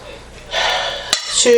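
Cooked food being drained and tipped into a stew pot of eggplant and codfish: a rushing pour of liquid with a sharp clank of pot against metal, close up in a kitchen.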